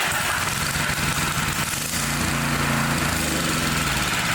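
A small engine running on choke with stale fuel treated by an additive chugs loudly and close by, its rough, steady idle continuing unbroken with no voices.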